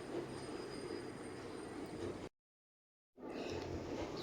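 A small ride-on toy train runs in a garden, with a continuous rumbling of wheels and faint squeal that cuts to complete silence for nearly a second before resuming.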